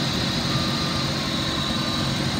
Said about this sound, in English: Idle smooth, revs up nice.